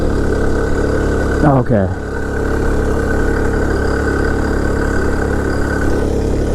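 A 49cc four-stroke engine on a motorized bicycle drones steadily and close throughout, with a brief spoken word early on.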